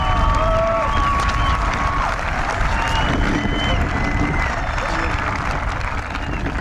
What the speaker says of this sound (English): If we could please give our senior scholars a round of applause